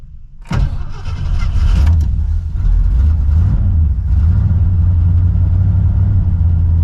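A cold Ford Custom 500, a retired North Carolina highway patrol car with a hand choke, cranks briefly, then catches and settles into a loud, rough, rumbling idle that surges close by.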